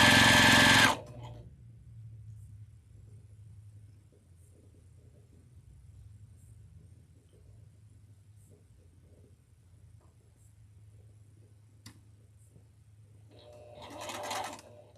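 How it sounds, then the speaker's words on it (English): A sewing machine running slowly in a home sewing setting while fabric edges and corners are lined up, giving a low, steady mechanical hum for most of the span, with louder bursts of sound at the start and end. "I am going to sew a little bit slower"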